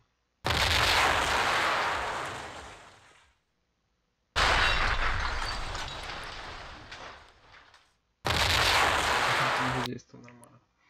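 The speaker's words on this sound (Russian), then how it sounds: "Фургон взрывается, да, допустим." Three loud, booming blasts of a van exploding in the video game The Movies, each a sudden crash that decays with crumbling debris over a few seconds, separated by brief silences.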